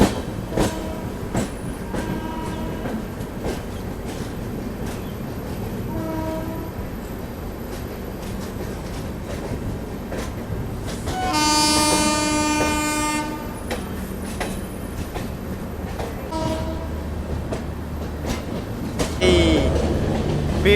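Chennai–Bangalore double decker express train rumbling alongside and overtaking on a parallel track, steady clickety-clack and wheel roar with a loud horn blast in the middle and another near the end, close and continuous.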